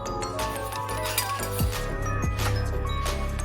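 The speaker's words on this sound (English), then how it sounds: "I have taken a fry pan" Metal fry pan set down on a stovetop before cooking Szechuan sauce, a few sharp clinks and knocks of metal against metal over a steady kitchen background hum, no talk.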